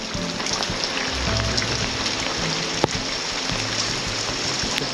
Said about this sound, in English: Look at this flood here.